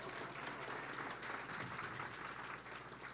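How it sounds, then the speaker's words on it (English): An audience at a comedy show applauds steadily for Big Bubba, a dense, even wash of clapping that holds at full strength throughout. "give Big Bubba a big round of applause"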